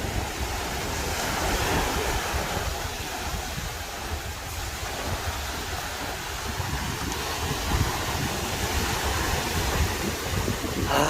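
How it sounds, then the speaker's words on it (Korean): A north-northeast wind blows steadily at the mouth of the Namdaecheon and Wangpicheon rivers in Uljin during cast-net fishing. It makes a continuous broad roar mixed with surf-like rushing that stays at an even level throughout, with no voices. "바람은 북, 북동풍으로 불고 있습니다"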